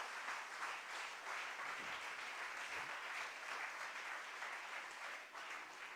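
A church congregation applauds steadily and warmly for several seconds, a dense continuous clapping that fills the room at moderate volume.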